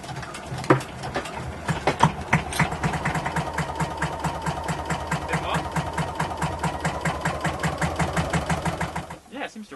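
A small engine runs steadily at around 1000 RPM, chugging in a quick regular pulse for nearly ten seconds before cutting off near the end.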